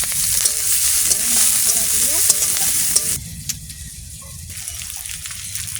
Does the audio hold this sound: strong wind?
no